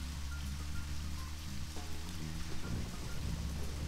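Steady rain during a night drive in the game Deadly Premonition, a dense even hiss with low vehicle rumble and a few soft knocks, constant throughout with no voices.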